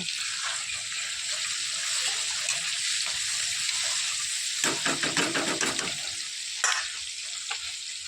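Tomatoes fry in a pan with ground spices, a continuous close sizzle and hiss, broken midway by a burst of rapid stirring scrapes and a sharp clank near the end.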